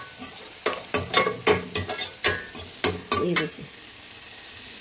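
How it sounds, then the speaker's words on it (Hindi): Onions fry to golden in hot oil for biryani, a steady sizzle broken by a run of sharp, rhythmic spoon scrapes and stirs; someone speaks briefly over it. "ये मेरा सारा अनियन फ्राई हो गया अच्छे से, ये गोल्डन कलर का हो गया अच्छे से"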